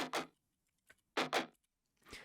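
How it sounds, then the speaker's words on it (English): Double guitar chug effect in an electronic track, with short, punchy chugs arriving in pairs and a brief tick between them, fairly quiet with gaps of silence. "it had this sort of double guitar chug effect going on"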